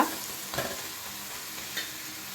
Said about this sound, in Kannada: 1 ಟೊಮೆಟೊ ಸಮೇತ ಹಾಕಿದೆ. ಚೆಂದ ಮಾಡಿ ಫ್ರೈ ಮಾಡುವ.